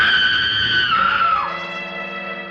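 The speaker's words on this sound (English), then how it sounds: "Somebody screamed." A woman's long, piercing scream from a 1942 film, loud and sustained for about two seconds, with the pitch sliding downward before it trails off.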